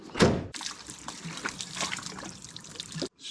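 Water dripping and trickling through the door seal of a Mk3 Ford Escort, a close wet splash at the start followed by continuous light trickling and drips, ending abruptly.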